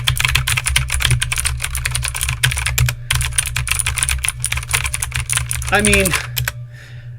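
Rapid clacking keystrokes on an Aukey mechanical keyboard, close and crisp, continuing steadily with a short pause. Someone speaks briefly near the end.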